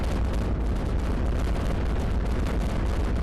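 A sustained, loud rumbling blast roars from an X weapon strike in the iBomber Defense war game, a dense, unbroken explosive wash filling the whole moment with no voices.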